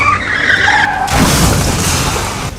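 After a violent collision, a motorbike scrapes and grinds along the road for about 50 feet, throwing sparks, as caught on CCTV: a harsh, loud, continuous skid that swells after an opening screech and holds to the end.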